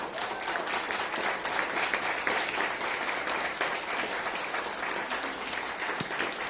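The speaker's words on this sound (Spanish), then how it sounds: "Dale ese aplauso al Rey." Dense, steady applause from a church congregation fills the whole stretch, many hands clapping together at close range with no pauses.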